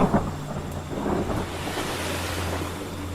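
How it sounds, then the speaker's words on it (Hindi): Cartoon ocean waves surge and wash onto a shore in a broad rushing roar that swells and then recedes, loud and steady throughout with no voices. "उसके घुटनों तक पानी आया और लहर वापस जाते हुए पानी वो वापस ले गई।"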